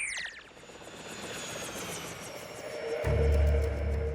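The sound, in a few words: helicopter flying, cartoon rescue bot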